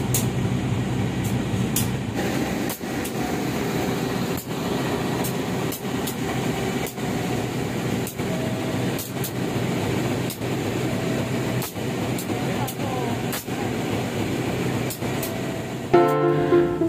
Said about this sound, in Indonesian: kereta api Argo Wilis tepat waktu tiba di stasiun Banjar pada pukul 13:56